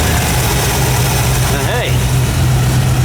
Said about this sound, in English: I think I just heard an engine fire up. So, is the Cobra up and running?